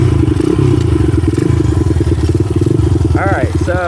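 A Honda ATC200X three-wheeler's engine runs steadily at idle with a throbbing, clattering rumble while gears are test-shifted, close and loud, with a brief rising rev near the end.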